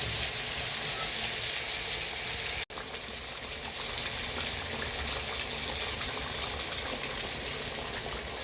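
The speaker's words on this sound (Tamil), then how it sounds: "கிண்டி விடுறதுன்னா இந்தமாரி தான் கிண்டி விடணும்" Fish moilee cooks in a pan while being stirred, giving a continuous soft sizzle and bubbling with a brief sharp knock partway through and no voices.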